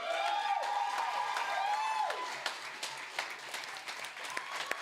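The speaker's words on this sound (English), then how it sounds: "Keep clapping, keep clapping." An audience claps for an award presentation at a debating competition, a dense spread of hands that starts under a sustained whistling tone and thins toward the end.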